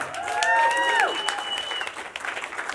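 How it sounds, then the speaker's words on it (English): Comedy club audience applauding, a dense wash of clapping that fades somewhat toward the end, with a bright sliding whistle or tone riding over it early on. "Keep your hands clapping right now."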